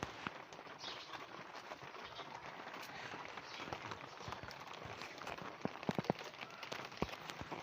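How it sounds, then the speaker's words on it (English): Rain patters steadily on the roof of a wood cabin, a faint, even hiss of drops with scattered sharper taps and a few louder knocks near the end. "Rain continue hits on its roof."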